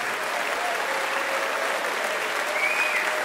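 A jazz festival audience in Frankfurt applauds the quartet Quest, a steady, full wash of clapping from a large crowd with faint voices mixed in.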